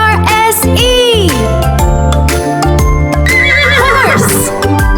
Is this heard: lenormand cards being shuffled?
no